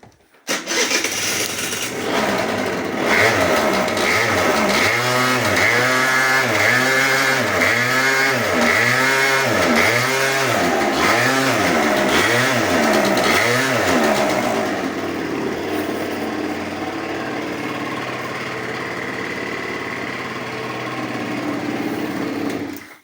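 A scooter engine fitted with an extra fuel tank cranks with a rhythmic, pulsing kick-start churn for several seconds, then catches and settles into a loud, steady high-pitched idle.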